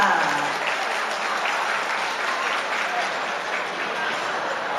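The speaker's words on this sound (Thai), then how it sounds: "ขอเสียงปรบมือให้กับท่านด้วยค่ะ" Guests at a Thai wedding reception give a warm round of applause for an honored guest, a former deputy agriculture minister: loud, dense clapping that stays steady for several seconds, with faint voices mixed in.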